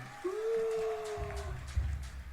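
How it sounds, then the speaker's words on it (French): Wolves howl in a single long, rising then steady wail that fades out, followed by a low rumbling noise; fairly clear and close. "Tu entends des loups hurler."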